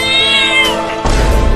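A cat meows loudly and close, one drawn-out wavering call followed by a harsher, rougher cry, with no talk over it.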